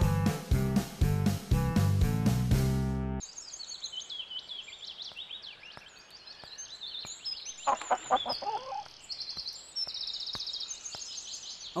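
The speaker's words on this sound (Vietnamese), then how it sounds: "gà của nhà ai tự nhiên chạy vô nhà mình vậy ta?" A chicken clucks and calls in several short bursts after a loud musical opening, with faint background ambience in between and a louder cluster of calls midway.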